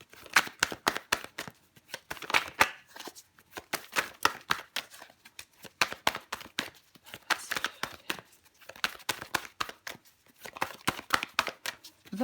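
Tarot cards shuffled by hand, a rapid series of crisp riffling flutters in repeated bursts with short pauses between them, close and moderately quiet, no voice present.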